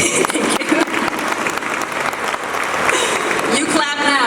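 An audience at a Tigray community event in Minnesota claps in a dense, sustained burst of applause, close and loud, with voices mixed in and a brief whistle-like tone near the end.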